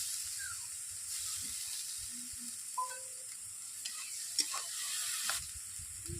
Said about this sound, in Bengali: এরপর দিয়ে দিচ্ছি আদা রসুনের বাটা।